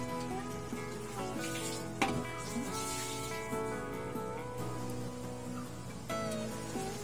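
Pork liempo with carrots simmering in a pot gives off a soft, steady bubbling sizzle that continues throughout, with occasional clinks and a stirring knock under a faint background hum.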